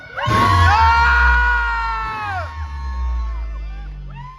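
Live crowd at a rap battle yelling and cheering loudly in a sustained roar to vote for a winner, swelling then fading into scattered whoops.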